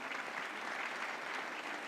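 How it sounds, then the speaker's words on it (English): Dense, even applause from an audience at a Diamond Jubilee gathering welcoming a guest, many hands clapping continuously at a constant level with no voices above it. "Please welcome him with huge round of applause"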